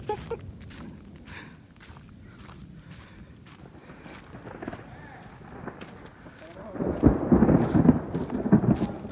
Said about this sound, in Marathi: एवढा विजांचा कडकडाट व्हायला लागला आहे